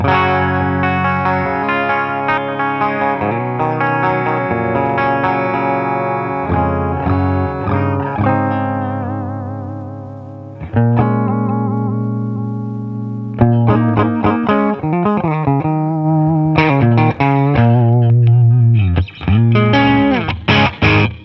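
Overdriven electric guitar through a Bogner LaGrange overdrive pedal, using the middle pickup, plays chords and riffs with a thick, distorted tone, sustained notes and brief pauses, loud and alone with no talking.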